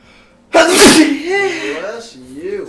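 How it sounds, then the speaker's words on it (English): A single loud, close sneeze bursts out suddenly in a gaming session, followed by a voice talking. "That sneeze was"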